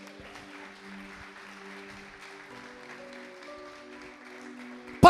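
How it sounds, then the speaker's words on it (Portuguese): A church congregation applauds in steady, moderately loud clapping over sustained keyboard tones, ending with a sharp loud knock. "Você pode aplaudir a Deus, Marcelo, em nome de Jesus."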